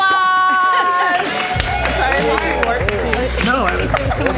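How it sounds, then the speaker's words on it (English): A crowd at a live game-show event breaks into loud, dense applause and cheering right after a host's voice, filling the room steadily to the end. "Give them a round of applause"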